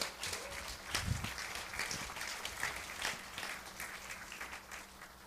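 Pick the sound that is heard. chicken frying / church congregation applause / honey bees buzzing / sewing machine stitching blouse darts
church congregation applause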